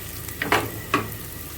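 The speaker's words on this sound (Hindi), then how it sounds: "ये तड़का अब मैं डाल दूंगी" Hot oil tempering of spices is poured over chickpeas, giving two quick bursts of sharp sizzling over a faint background, close and fairly quiet.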